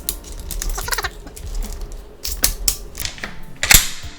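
Mechanical clicks and clacks of a Mossberg JM Pro shotgun's bolt and button being worked by hand, close and moderately loud, a brief flurry of small taps followed by sharper metallic snaps.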